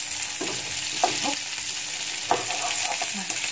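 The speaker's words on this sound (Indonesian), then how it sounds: "Lalu kita masukkan paprikanya. Kita aduk sampai bau paprikanya juga keluar." Bell pepper stir-fried in a pan for a baby corn and meatball dish: a steady oil sizzle runs throughout, broken by a few scraping strokes of the stirring utensil.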